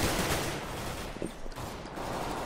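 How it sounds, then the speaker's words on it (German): Dense bursts of gunfire in Counter-Strike: Global Offensive, a rapid spray of shots blending into a harsh continuous roar at moderate loudness, no speech. "Das waren Schüsse."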